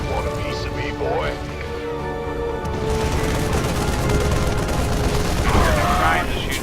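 Rapid gunfire bursts and booming explosions fill a StarCraft 2 battle, dense and loud throughout with crackling volleys, while a person talks over the action.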